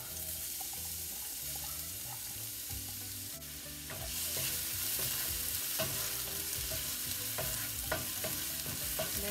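Onion sizzles in vegetable oil in a pan and is stirred with scraping and clinking of the utensil, a steady close frying hiss that grows louder partway through.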